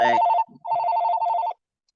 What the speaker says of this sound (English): I'm sorry about the ringing phone.